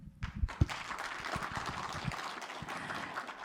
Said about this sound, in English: Shall we celebrate this very historic and important moment of this university with another round of applause